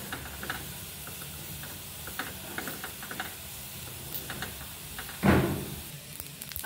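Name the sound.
roasting sesame and poppy seeds in a pan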